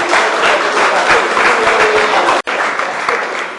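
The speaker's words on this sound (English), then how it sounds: "lusty round of applause." Audience gives a sustained round of applause at a community awards ceremony, dense steady clapping that cuts off abruptly for an instant before carrying on.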